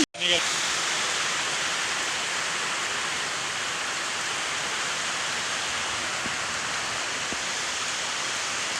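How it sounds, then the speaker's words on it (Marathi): Heavy rain pours down as a dense, continuous hiss, loud and unbroken throughout, with a couple of faint knocks underneath. "छान पाऊस चालू झालेला आहे"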